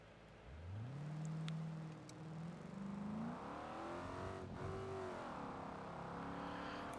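A Crown Victoria race car in BeamNG.Drive revs up hard to high RPM and holds there, its engine note climbing, dipping briefly and rising again in a loud, sustained whine with no talk.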